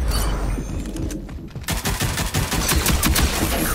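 Burst-fire weapons in the game Rogue Company, loud rapid volleys of shots close by, pausing briefly before a sustained stretch of rattling bursts.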